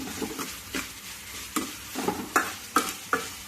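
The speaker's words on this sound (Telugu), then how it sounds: "బాగా వేగే వరకు వేయించుకొని అప్పుడు టమాటాలు వేసుకున్నాం" Onions and tomato pieces fried in a pan under a continuous sizzle, with several distinct, regularly spaced scraping stirs of a spoon, close by.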